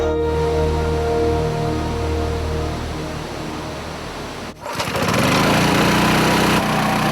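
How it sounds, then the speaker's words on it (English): A dive compressor fills air tanks before a dive: a loud, continuous motor drone that briefly dips and then resumes at a slightly different pitch, with no voices. "The compressor fills the tanks with clean air"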